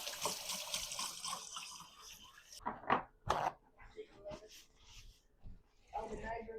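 Pork ribs rinsed under a running kitchen tap: a hiss of flowing water at first, then splashes and handling noises close by, with a person speaking throughout.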